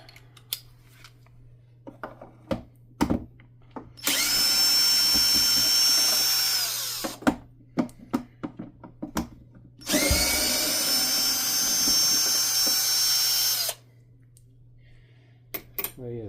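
A power drill fitted with a long drill bit works on a Hoover Dimension 1000 at a workbench, two sustained whirring runs of several seconds each, close and loud, between clicks and handling sounds.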